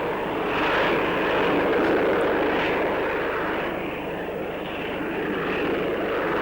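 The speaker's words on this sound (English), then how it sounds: "the British proved that jet-lift aircraft, fitted with the unique Pegasus engine and its swiveling nozzles, can fly combat missions" A Harrier jet-lift aircraft with its Pegasus engine and swiveling nozzles roars steadily, a loud continuous jet rumble and whine with no pauses.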